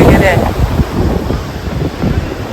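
Gusty wind buffeting the microphone with surf washing in at Devgad beach, loud and rough at first then settling into an uneven rush, with a voice talking over it.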